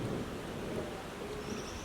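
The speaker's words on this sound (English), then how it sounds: "We had a mid-afternoon thunderstorm, typical of the Eastern Sierras." Faint, distant thunder rumbles beneath a soft steady wash of rain during a mid-afternoon thunderstorm in the Eastern Sierra, with no voices.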